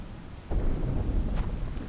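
In a Hindi cartoon story, steady rain hisses in the background and a soft rumble of thunder swells in partway through, with no voices.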